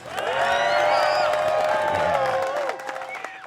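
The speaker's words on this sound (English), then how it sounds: "A big round of applause, please, for Cale Leiviska." Crowd at a disc golf world championship final round clapping, whooping and cheering for a player, a lively burst of applause that fades after a few seconds.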